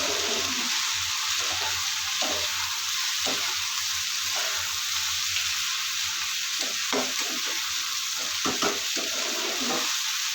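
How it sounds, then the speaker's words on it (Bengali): Okra and tiger prawns fry dry in a pan with no water added, a constant bright sizzle broken by several short scraping stirs of the spatula; no voices. "বিনা পানি ভাজা করা হবে।"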